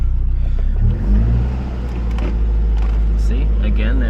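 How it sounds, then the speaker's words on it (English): A Toyota 86 engine with a sticking throttle runs close by at a low rumbling idle, revs briefly, then its speed sags back down, with a voice speaking over it. "if I rev it, it's just gonna drop right down"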